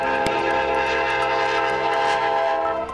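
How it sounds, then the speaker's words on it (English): A train on the world's highest railway rumbles steadily close by, with a sustained horn-like droning tone over the rolling noise and a few sharp clanks, and no voices. "This is not an ordinary railroad, and no ordinary train."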